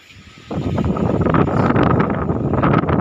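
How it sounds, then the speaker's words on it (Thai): Strong outdoor wind gusts straight into the microphone, starting suddenly and turning into a loud, steady, buffeting rumble that masks any other sound. "ลมแรงมากครับท่านผู้ชมวันนี้"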